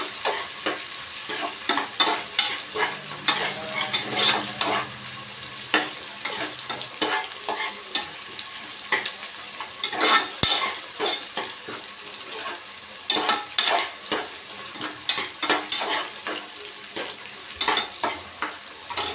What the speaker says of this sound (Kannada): ಇವಾಗ ಈರುಳ್ಳಿ ಜೊತೆಲೇ ಜೀರಿಗೆ ಕೂಡ ಫ್ರೈ ಆಗುತ್ತೆ.